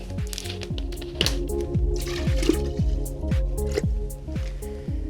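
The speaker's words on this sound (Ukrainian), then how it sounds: "і заливаю все це водою." Water pours into a glass with gurgling, bubbling glugs and rising pitch as it fills, close by and steady for several seconds.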